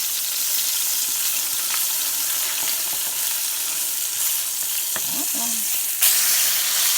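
A pork chop fries in a hot pan, giving a continuous close sizzle with a brief clatter and shift in tone as it is flipped near the end.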